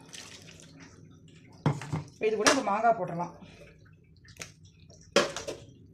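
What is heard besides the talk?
water washing rice in a vessel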